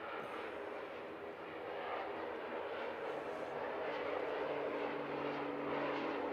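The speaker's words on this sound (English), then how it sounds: "I've got a lot of time for this aircraft." A Sounds Air aircraft at Christchurch International Airport produces a steady, broad engine roar from a moderate distance, continuous and slightly swelling throughout.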